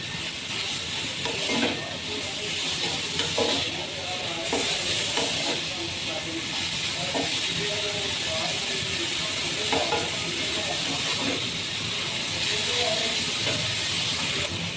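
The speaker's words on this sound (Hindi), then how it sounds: "प्याज फ्राई हो रही है" Chopped onions fry in oil in a pan for a restaurant-style chicken koyla karahi, giving a steady, close sizzling hiss with faint stirring clatter throughout.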